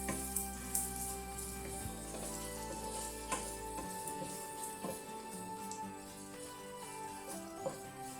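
Onions frying in a pan make a steady, close sizzle throughout, with occasional scraping clicks and taps as they are stirred.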